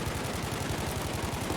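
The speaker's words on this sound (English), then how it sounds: "that gunfire there" Sustained rapid automatic gunfire in Battlefield V, a dense rattling stream of shots that runs loud and unbroken throughout with no voices over it.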